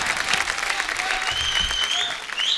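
A studio audience on a comedy talk show bursts into loud, sustained applause for an arriving film star, with whistles and cheers rising over the dense clapping.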